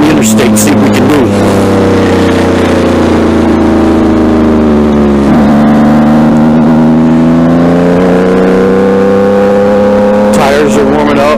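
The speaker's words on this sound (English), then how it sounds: "I can still hear my bike" A motorcycle accelerates onto an interstate, its loud engine droning steadily and rising in pitch over heavy wind roar. A brief dip near the middle sounds like a gear change before the engine climbs again.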